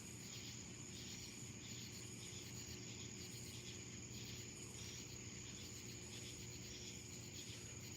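Crickets and other insects chirp outdoors at night, a faint but continuous pulsing trill that repeats in steady bursts with no other sounds over it.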